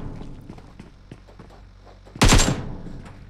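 PUBG match on the Miramar map, several distant gunshots popping at irregular intervals, then one loud close burst of fire near the end.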